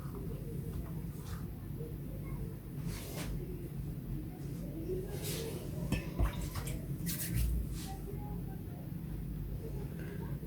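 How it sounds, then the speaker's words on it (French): Water wets a kitchen towel while making nems (spring rolls): irregular splashes and drips of water over a steady background hum, close and fairly quiet. "je vais humidifier un petit peu la serviette"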